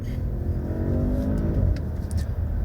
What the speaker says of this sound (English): the Audi S8 is running a V8 twin turbo